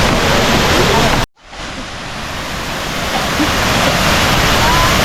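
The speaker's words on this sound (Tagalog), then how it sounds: "Welcome to Kwangsay Waterfalls." Kuang Si Falls in Luang Prabang, a steady broadband roar of falling water, loud and constant, briefly cutting to silence before the rush swells back in.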